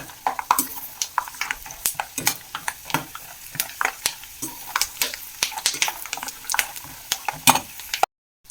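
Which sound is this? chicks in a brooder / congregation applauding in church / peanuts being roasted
peanuts being roasted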